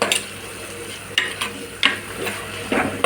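Grated carrot fries in a pan for egg fried rice, a continuous close sizzle punctuated by four sharp stirring scrapes at regular intervals.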